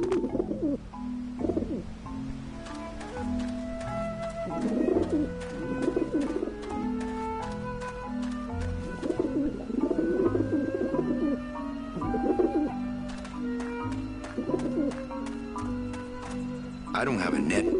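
Pigeons coo repeatedly in Grim Fandango, soft rolling calls recurring in bursts over a steady ambient game background, with occasional sharper chirps and clicks.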